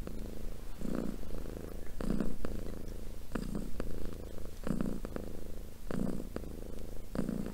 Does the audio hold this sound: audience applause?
no